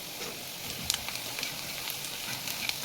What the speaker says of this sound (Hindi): इसको थोड़ी देर और अच्छे से भूनेंगे